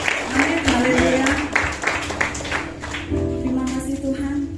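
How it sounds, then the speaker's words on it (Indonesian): A church congregation claps together during worship, a steady wash of applause that runs the whole time while a voice carries on over it and a sustained tone from music or a microphone hums underneath. "Kita berikan tepuk tangan yang terbaik buat Tuhan"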